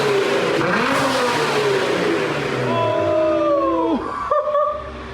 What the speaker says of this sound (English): Let it warm up a little bit, and then we'll give it some revs